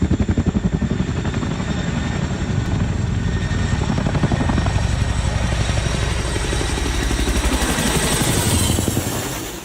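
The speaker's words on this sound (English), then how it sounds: "Helicopters are dropping off equipment and soldiers onto the water." A military helicopter hovers low over water during exercises, its rotor producing a loud, continuous rapid chop and engine whine that holds steady close by for the whole stretch, with no voices.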